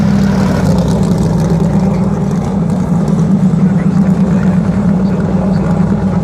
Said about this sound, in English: 2-litre V4 turbocharged engine.